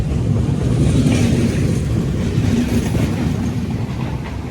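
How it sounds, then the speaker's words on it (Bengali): A fast train rushes past over a bridge at dawn near Malda, a steady loud rumbling roar with faint clattering and wind buffeting throughout. "এত ফাস্ট ট্রেন যাচ্ছে।"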